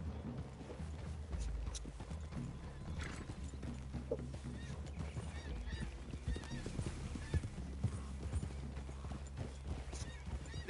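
Horses in the Red Dead video game walk with steady, overlapping clip-clop hoofbeats and an occasional whinny over a constant outdoor ambience.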